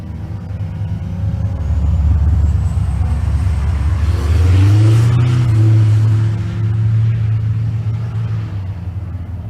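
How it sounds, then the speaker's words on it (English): Two 4th Gen Pontiac Firebirds drag racing at a race week event in Kearney, Nebraska: deep rumbling engines build, peak in a loud revving surge mid-clip, then hold a strong droning roar. "I have 4th Gen Firebirds in both lanes"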